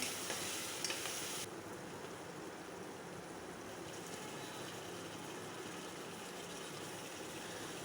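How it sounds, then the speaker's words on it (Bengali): Meat being stir-fried in a pan with salt, a steady sizzle and scrape of stirring that is louder for the first moment, then settles into a continuous, fairly quiet frying hiss. "মাংসগুলো দিয়ে ভালো মতো কষে নেব।"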